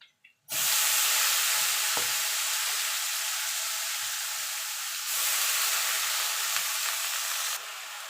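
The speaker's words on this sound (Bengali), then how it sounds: "এবার একটুখানি নেড়ে চেড়ে নেবো" Shapla water lily stems with turmeric, stirred in a hot pan: a loud, broad, steady sizzling hiss bursts in after a brief quiet and holds throughout, shifting slightly in intensity, with no talk.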